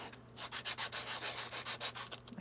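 Rhythmic rubbing strokes of a sanding block on a small cork disc from a wine cork, about a dozen quick back-and-forth scrapes, close and steady with no voices.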